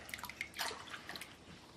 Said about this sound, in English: I'm gonna pour myself a nice cup of the HEEDY Brew here.